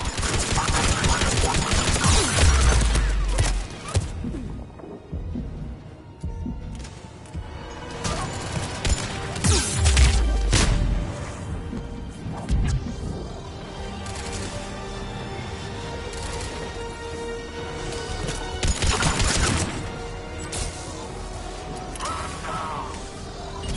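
Gunfire erupts during an enemy attack in Mass Effect 3, with scattered heavy shots and crashing impacts in bursts amid busy combat noise and background effects, loud at first, then easing before another burst later.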